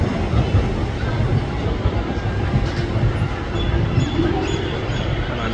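A Nova passenger train passes through Preston station, a steady broadband rumble of wheels and engine holding level throughout at moderate distance, with faint station ambience.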